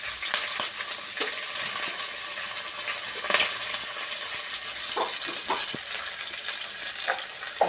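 Dry chillies, curry leaves and onions frying in a pan, a steady close sizzle with occasional crackles and stirring clinks, no voices.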